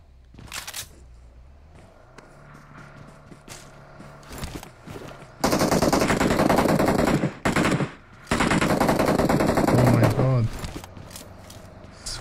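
Rapid automatic gunfire rips through a battle royale shooter match in long sustained bursts, broken by brief pauses, with a player's voice and lighter game sounds heard before the shooting starts.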